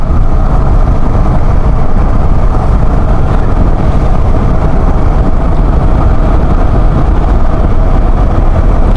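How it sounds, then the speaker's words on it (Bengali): A low-slung sport motorcycle engine drones steadily and loudly throughout, with a constant low rumble and rushing wind noise as it rides along. "হঠাৎ করে সেটা একটু নিচা বাইক, মানে একটু জিক্কা বাইক চালাইতেছি"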